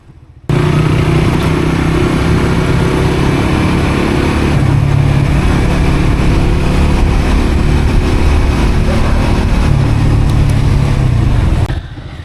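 A Suzuki GSX motorcycle being ridden, its engine droning loud and steady with a rough, clattering edge for most of the stretch, starting abruptly and fading near the end, with no voices over it.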